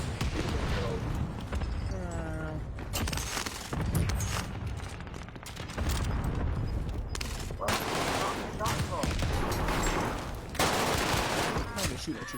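Rapid bursts of automatic gunfire and shots from a Fortnite match, dense and continuous over most of the stretch, with a voice talking over the shooting in places.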